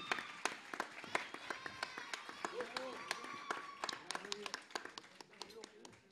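Clapping crowd at the Salta Oriental Fest music festival, with sharp, scattered hand claps over a bed of voices and tonal sound, moderately loud and irregular throughout.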